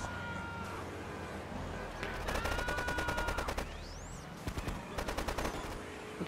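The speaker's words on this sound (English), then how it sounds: "What's shooting? Are they shooting forward?" Rapid automatic gunfire bursts in the video game Grand Theft Auto The Trilogy, clustered rattling volleys over a continuous game background, with a sweeping whine between bursts and no talk.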